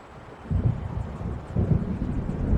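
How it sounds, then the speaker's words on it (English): Low rolling rumble of thunder and gusting wind from an approaching storm over the lake in Alan Wake, swelling in two heavy surges with no speech over it. "It seems there's a storm coming."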